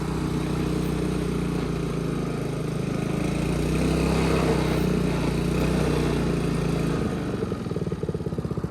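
A Honda Harmony lawn mower with water in the gas, its small engine idling steadily and close, with a low continuous drone that turns rougher and more uneven near the end, no speech.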